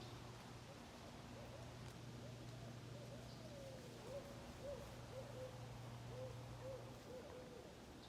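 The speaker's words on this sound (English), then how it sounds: "Now that was an owl" Owl hooting at night in the woods of a mountain preserve, a series of soft, distant hoots repeating steadily over a constant low background hum.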